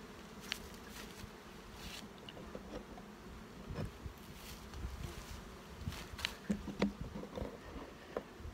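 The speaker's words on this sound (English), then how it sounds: "here I have a big mass of bees" Honey bees buzzing in a large mass at an opened hive, a steady close droning hum with small taps and rustles scattered through it.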